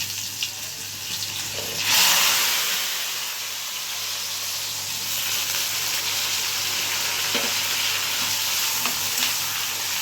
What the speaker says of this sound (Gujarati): મેથીનો વઘાર જ, મેથીનો અને લસણનો વઘાર